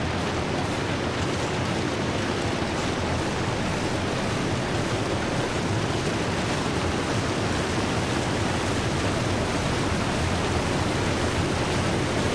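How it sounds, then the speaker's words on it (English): Loud, steady rush of a waterfall in a video game, a dense unbroken roar of falling water that fills the whole stretch without letup. "That waterfall's getting kind of loud."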